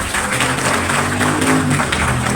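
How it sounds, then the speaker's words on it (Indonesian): Applause from an audience at a community youth gathering, a dense, continuous patter of many hands clapping, loud and close, with a low musical hum underneath throughout. "Tepuk tangan untuk yang lain"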